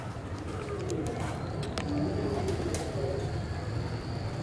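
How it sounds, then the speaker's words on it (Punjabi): Pigeon coos softly amid a pigeon-keeping setting, low murmuring calls over steady background noise with a few faint chirps and clicks, no clear talking. "ਸਭ ਬਾਈ ਦੇਖੋ ਇਹ 4 ਦਿਨ ਬਾਅਦ ਕਬੂਤਰ ਆਇਆ"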